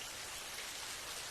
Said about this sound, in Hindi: जहाँ से ठंडी ठंडी हवा के साथ रिमझिम बारिश हो रही होती है